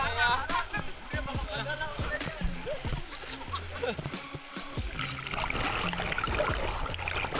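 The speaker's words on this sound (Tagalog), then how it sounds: "Lakas ng alon." Rushing water and sloshing waves of a strong river current swirl around a boat or swimmers, with people talking and calling out over the steady watery noise.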